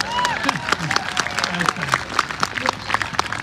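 A brief burst of applause from a crowd at an outdoor protest blockade launch, scattered claps rising and falling over a few seconds, with a voice briefly audible.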